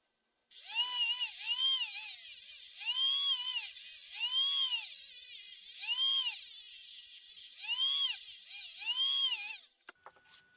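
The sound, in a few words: Dremel rotary tool cutting down a microscope housing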